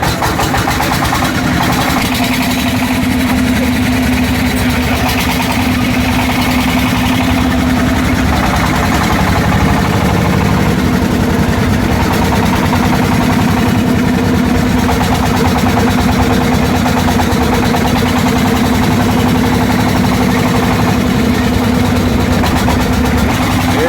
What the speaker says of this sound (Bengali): আমাদের রাকিবুল হাসান শান্তবাইয়ের নেতৃত্বে দুইটি ট্রলার নেওয়া হয়েছে